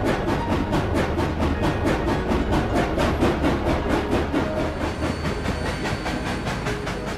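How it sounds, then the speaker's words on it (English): A 4-6-2 Pacific steam locomotive hauls a commuter train toward San Jose, its rapid rhythmic chuffs and rail clatter beating steadily at moderate distance under a continuous hiss. "A train beginning its run down to San Jose is pulled by a 462 Pacific."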